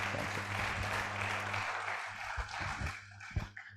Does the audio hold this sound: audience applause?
yes